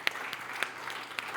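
A church congregation claps together, a short burst of fairly loud, dense applause with a few sharp individual claps cutting through the wash.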